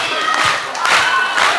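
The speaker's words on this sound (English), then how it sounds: "Clap your hands for me like this." A crowd at a live hip-hop concert in a Glasgow club claps and cheers in a short noisy burst, with a few sharp thumps and shouting voices mixed in.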